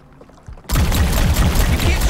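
A Gatling gun in the video game High on Life fires its glob shot: after a near-silent start, a sudden loud, dense blast bursts in and roars on steadily to the end.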